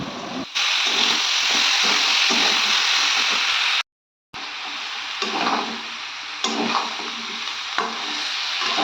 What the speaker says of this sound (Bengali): আর তেলের মধ্যে সমস্ত সবজিগুলো দিয়ে দিলাম